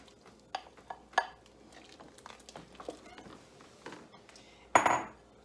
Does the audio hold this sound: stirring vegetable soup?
yes